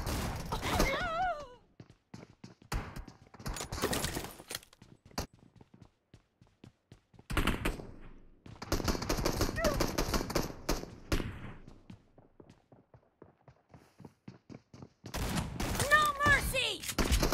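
A double-barrel shotgun fires in the mobile game BGMI, heavy blasts mixed with rapid gunfire in several clustered volleys, while a player talks in between.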